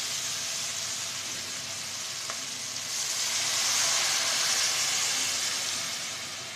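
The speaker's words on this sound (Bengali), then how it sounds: "এবার আমি পানি দিয়ে দেবো আলু সিদ্ধ হওয়ার জন্য।" Water poured onto potatoes frying in hot oil in a pan, a steady loud hiss and sizzle that swells briefly midway and carries on without talk.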